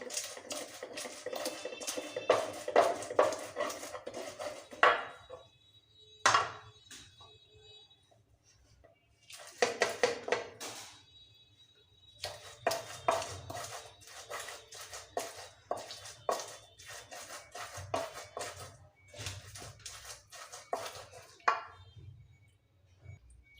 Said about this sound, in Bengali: ভর্তা বানাতে আমি ভর্তাটা বেটে নেব।